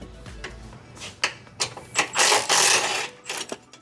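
Crescent wrench loosening suspension bolts on a wrecked Ford Lightning, a series of close metallic ratcheting clicks and scrapes, followed by a louder grinding rasp near the end.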